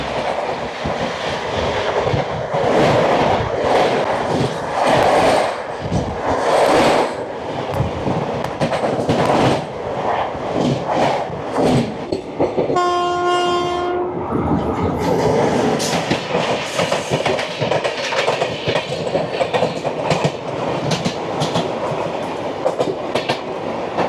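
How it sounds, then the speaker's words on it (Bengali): Amarnath Express, train 15654 from Jammu Tawi to Guwahati, thunders past close by with a steady loud roar of wheels and carriages, broken midway by one short, sharp horn blast. "চলে আসছে ট্রেন নাম্বার 15654 জম্মু তাওয়াই থেকে গুয়াহাটি অমরনাথ এক্সপ্রেস"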